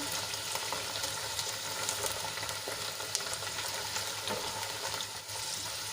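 Gunda (glueberries) frying in a pan for a Gujarati vegetable dish, a steady, close sizzle with occasional stirring scrapes running throughout, no voices.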